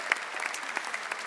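An audience applauds the coaches at a university student event, a brief, fairly soft patter of many hands clapping.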